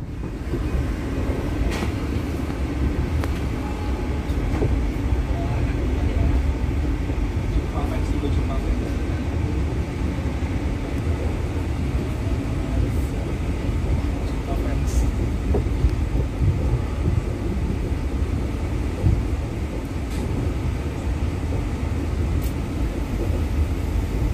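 Passenger train running nonstop from Semarang to Jakarta, a steady low rumble and rolling drone heard from inside, with faint intermittent clicks over the continuous noise.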